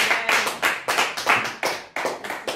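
A church congregation claps to praise the Lord, producing about ten loud, close, fairly even claps in a quick rhythm with no talking.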